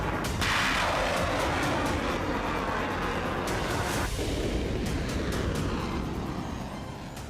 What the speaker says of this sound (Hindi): पाकिस्तान ने ईरानी जमीन पर कुछ इस तरह से विस्फोट किया।